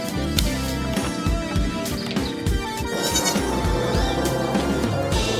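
A herd of goats bleats repeatedly, several overlapping calls rising close and loud over continuous background noise.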